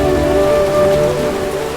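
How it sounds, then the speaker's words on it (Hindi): Heavy monsoon rain pours in a village setting, a loud, dense and steady downpour hissing on surfaces throughout, with no voices. "अरे ये मुनिया टोला का बारिश है, रुकेगा नहीं"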